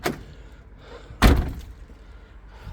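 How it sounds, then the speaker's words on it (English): A front door fitted with an Ultion auto lock is opened, giving one solid, close thud midway, with faint handling clatter before and after. "Okay, and I can just open the door."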